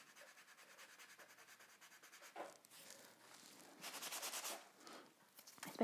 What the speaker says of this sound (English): you can do something with a a file or something, if you want to just scuff them a little